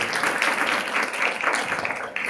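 A lecture audience applauds, a dense spread of hand claps rising and falling together for a couple of seconds, close and fairly loud.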